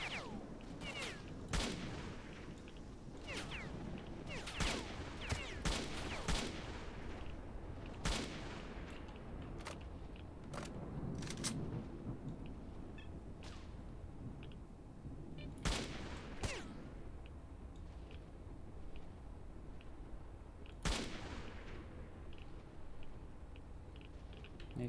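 Gunfire in S.T.A.L.K.E.R.: Shadow of Chernobyl, scattered sharp shots and short bursts over about 25 seconds, with some rifle reports standing out loudly against a low ambient background.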